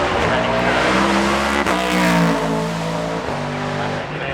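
Race car at the Goodwood Festival of Speed with its rear tire spinning and squealing under power, a loud sustained engine roar with steady tonal squeal bands, close and continuous throughout.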